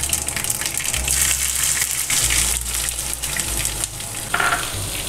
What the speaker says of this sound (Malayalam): ഞാനൊരു പാനിൽ കുറച്ച് എണ്ണ ചൂടാവാൻ വെച്ചിട്ടുണ്ട്